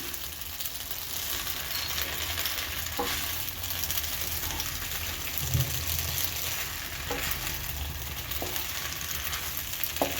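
Pasta stirred with melting cheese in a pan gives a steady close sizzle and soft scraping under it, with a few brief clatters of the utensil against the pan, and no speech.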